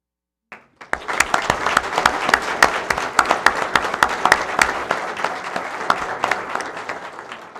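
Audience at a school board meeting breaks into a sustained round of applause for award recipients, dense steady clapping that starts after a brief pause and holds loud throughout before easing slightly at the end.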